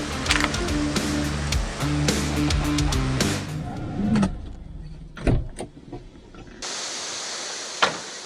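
A parcel delivery vehicle starts off with a rhythmic mechanical hum and rattling, followed by scattered thumps and clunks before a steady hiss takes over.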